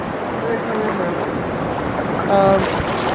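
Incoming sea tide on the shore makes a continuous broad surf roar mixed with wind, steady and fairly loud, while a person speaks over it.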